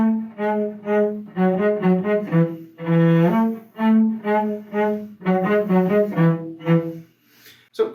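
A cello plays a four-bar phrase of La Cinquantaine from Suzuki Cello Book 3, with sustained bowed notes in a steady rhythm, close and full-toned with no talking.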